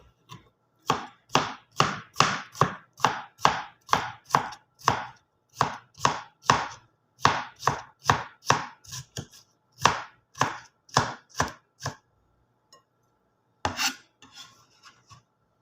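Salad vegetables diced into small pieces on a cutting board for an Arabian-style salad, a steady run of crisp knife chops in quick even bursts, close and clear, with a short pause before a final few strokes.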